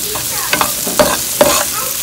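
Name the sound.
shrimp and spinach frying in a pan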